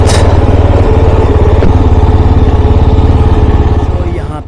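A parked motorbike's engine idles steadily and loud at close range in a parking area near a lake and trek in Meghalaya, with a low, even putter that tapers off at the end.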